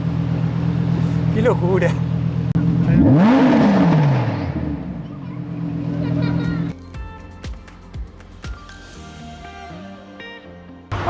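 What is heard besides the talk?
Lamborghini engine roaring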